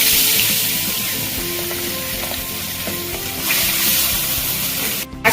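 Bata fish frying in hot oil in a pan, a loud, dense sizzle and crackle that runs steadily and then briefly cuts out near the end.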